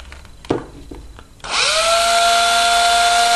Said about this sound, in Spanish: Ponemos en marcha el taladro